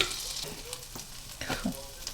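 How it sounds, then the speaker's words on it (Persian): Flour is stirred into melted butter in a pan, giving a steady close sizzle with scraping stir strokes and small crackles throughout, no voices. "کره که آب شد به اندازه 2 تا قاشق هم آرد میریزیم."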